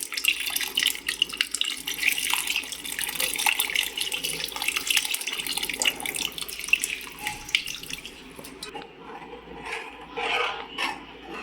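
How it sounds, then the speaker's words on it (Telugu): Water poured into thick Nellore-style fish curry gravy and stirred in, a close running trickle mixed with scraping and rubbing of a utensil against the pot, fairly loud and continuous. "ఇలా కొద్ది చిక్కగా ఉంటే మనం నీళ్లు పోసుకొని సరిపడా మనం దానిలో కలుపుకోవాలి"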